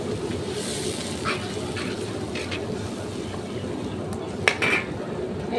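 Fish curry with turmeric and salt being stirred in a pan, with steady low cooking noise, occasional scraping of a utensil against the pan and a sharp clink near the end.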